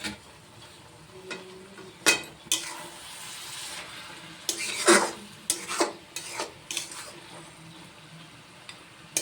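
Spinach curry with lentil dumplings being stirred in a pan: soft sizzling under intermittent scraping and rubbing strokes of a spoon against the pan, with sharper clinks near the middle.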